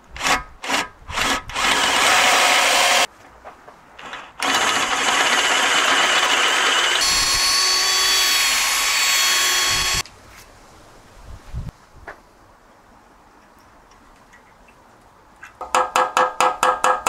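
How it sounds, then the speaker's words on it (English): A power drill bores out a seized bolt on an MG TF subframe in several loud, sustained runs. Short stop-start bursts come first, then long steady grinding stretches, a quiet pause, and rapid pulsing bursts at the end. "I'm going to drill it out"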